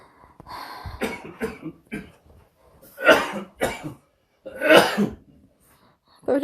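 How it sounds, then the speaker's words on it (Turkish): A person, ill for three weeks, gives a series of harsh dry coughs in irregular bursts, some close and loud, with short breathy pauses between them. "kuru öksürükle tam 21 gündür biz böyleyiz."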